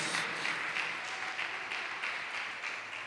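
A church congregation claps and applauds together, a soft, continuous patter of hands heard at a distance.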